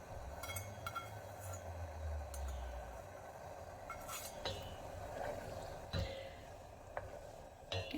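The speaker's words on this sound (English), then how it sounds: "Give them a gentle stir." A spoon gently stirs lilac flowers into simmering syrup, soft clinks against the pan and faint bubbling, quiet and close, with a few scattered taps and scrapes.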